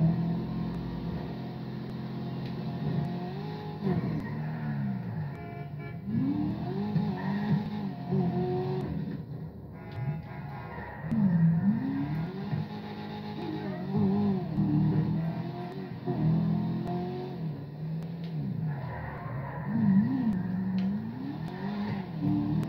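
A tuned, modified car engine in the video game GTA 5 revs continuously, rising and falling in pitch as it accelerates and eases off, loud and close with no speech.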